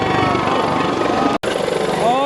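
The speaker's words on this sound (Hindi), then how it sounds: "ये गड़गड़ाहट जो हेलीकॉप्टर की आवाज़ है" Helicopter landing amid crowds and blowing dust, its rotor giving a loud, close, continuous rumbling thump while someone talks over it; the sound cuts out briefly partway through.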